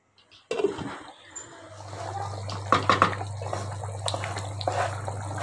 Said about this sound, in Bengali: এখন এই মুহূর্তে আমি একটু ঝোল অ্যাড করব।